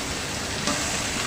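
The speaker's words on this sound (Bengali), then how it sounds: "তেলটা গরম হওয়ার পরে আমি সবগুলো মাছ এক এক করে কড়াইতে দিয়ে দিচ্ছি।" Fish frying in hot oil in a wok, giving a steady, dense sizzling hiss for a brief moment, even and close.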